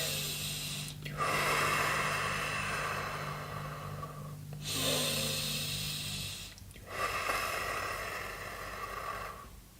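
Yogic conscious breathing in a Lamaze demonstration: slow, audible breaths drawn in and pushed out, three long cycles heard close up over a faint steady hum.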